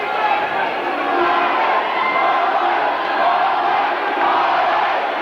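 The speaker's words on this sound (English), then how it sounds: "The crowd are going crazy now, cheering" Loud crowd at a kickboxing fight, roaring and cheering in a continuous dense wash of voices with shouts rising out of it.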